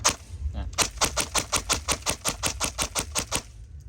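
An airsoft P90 fires semi-automatic with sharp, evenly spaced clicking shots, about a dozen in steady rapid rhythm, close and loud over a low background hum.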